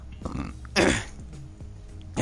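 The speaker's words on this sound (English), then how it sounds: "Sorry, I just had a burp." A person burps during a Gran Turismo 7 livestream, a short rough low belch near the start followed by a louder, longer guttural one, then quieter throat noises, close to the microphone.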